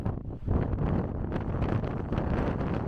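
Strong wind roars at the rim of Meteor Crater in Arizona, a loud, continuous buffeting rumble that batters the microphone throughout.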